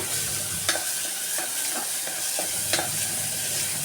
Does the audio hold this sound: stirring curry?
yes